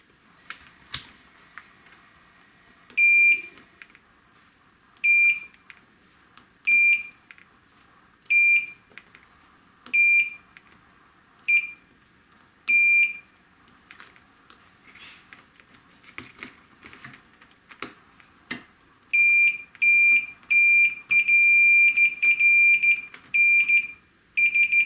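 Multimeter continuity tester probing the pins of a ribbon cable from a 25-inch K7400 arcade monitor, giving short high electronic beeps at regular intervals, then a quicker run of back-to-back beeps near the end, with soft clicks of probes between.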